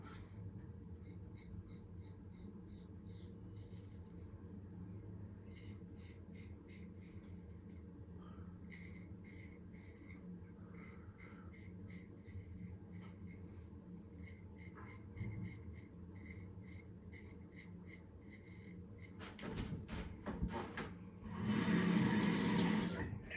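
Straight razor shaving a face, a razor some fifty years old or more: soft repeated scraping strokes in quick bursts, fairly quiet and close, with a louder rasping patch near the end.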